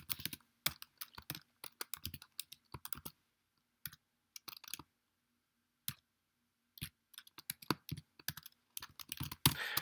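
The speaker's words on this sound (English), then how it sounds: "You can just type in code, and it appears" Keys clatter on a computer keyboard while code is typed, in irregular bursts of quick clicks separated by short pauses, close and fairly quiet with no talking.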